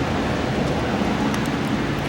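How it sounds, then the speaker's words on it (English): Steady rain falling outdoors beside a parked 2013 Volvo 630 truck, a dense, even hiss that stays constant and fairly loud throughout a short stretch, with no voices. "Sorry about the rain"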